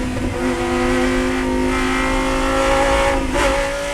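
A Lamborghini Huracan race car roars loudly on the full 4.4-mile track at Utah Motorsports Campus, its engine note holding steady then shifting pitch as it works through traffic, close and continuous.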